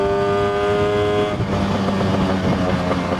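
Lambretta scooter with a freshly upgraded RT 195 engine riding on the road, a steady buzzing engine note that drops and shifts pitch partway through as it changes speed, heard up close without talk.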